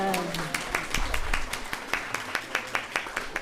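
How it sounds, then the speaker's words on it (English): Applause for the master of ceremonies at a novice monk's ordination ceremony, a crowd clapping steadily and fairly close, its sharp claps thinning toward the end. "A round of applause for our MC."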